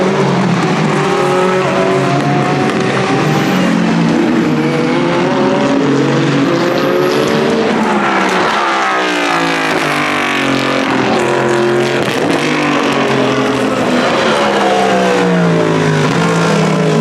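A NASCAR race car roars past at the 24 Hours of Le Mans, a loud sustained engine howl that swells and sweeps through a clear pitch shift mid-clip, with continuous nearby racing-engine noise throughout.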